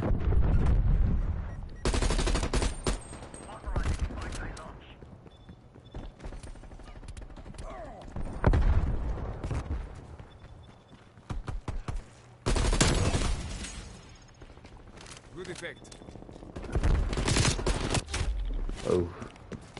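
Call of Duty Cold War gunfire on PS5: repeated loud bursts of automatic shots and single cracks, clustered in several flurries with short lulls between them, with a voice talking at times.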